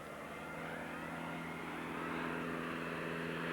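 A de Havilland Chipmunk trainer with a 145 horsepower de Havilland Gipsy Major 10 Mark II piston engine drones steadily at an airshow in Wanaka, New Zealand. The engine holds a continuous hum that swells slightly as it nears.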